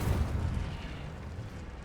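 Fire spell, Incendio, cast in Hogwarts Legacy: a dense, roaring burst of flame with a heavy low rumble, sustained and steady for about two seconds, with no voices.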